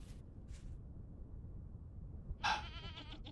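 A goat in the cold-weather survival game Vintage Story gives a single sharp, wavering bleat near the end, preceded by low background hum and a faint earlier cry.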